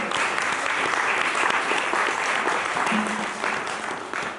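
A church congregation applauds during a sermon, dense steady clapping that fills the whole stretch at an even level, with faint voices mixed in underneath.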